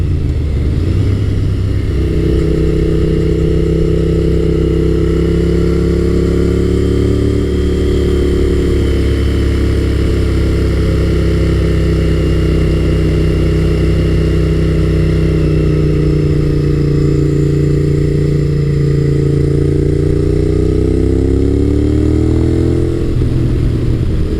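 Honda VTR1000F SuperHawk V-twin motorcycle engine pulling hard under acceleration, a loud, continuous close-up drone that rises and falls in pitch through the run with no talking.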